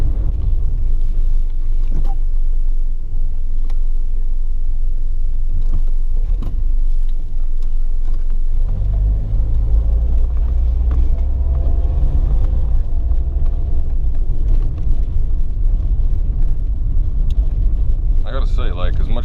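A 1984 Saab 900 with an automatic transmission being driven: a steady low engine and road rumble continues throughout, with people talking over it.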